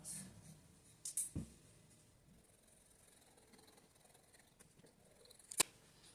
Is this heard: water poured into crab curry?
no